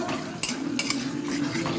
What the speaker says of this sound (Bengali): ডিমটা এবার ভেজে নেবো